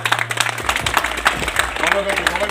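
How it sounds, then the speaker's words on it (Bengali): Applause at a football tournament trophy ceremony at a school: a crowd claps in a dense, steady patter at moderate distance, with a voice talking over it. "সবাইকে বলবো একটা জোরে হাততালি হোক।"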